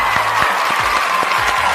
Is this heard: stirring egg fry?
no